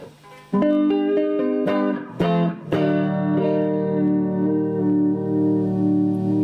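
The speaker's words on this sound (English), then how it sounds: "More of a sine wave chorus." A sustained electric guitar chord shimmers with a smooth, wavering sine-wave chorus effect from a Behringer Virtualizer, ringing out loudly after a few struck notes.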